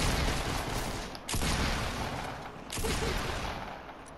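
Rapid, loud shotgun blasts in Fortnite come as two or three heavy booms that nearly blend together, each with a broad crack and lingering rumble.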